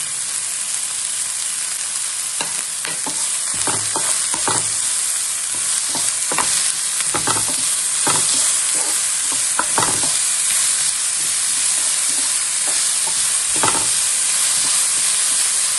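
Capsicum and spice powder stir-fried in a pan for a Malabar chatti porotta dish, with a steady loud sizzle throughout and repeated scraping and stirring clatters of a utensil against the pan.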